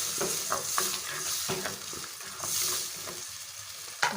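Frozen peas are stirred into a sizzling masala in a pan for a mixed pulao, with a steady loud fry hiss and scraping stir strokes close up.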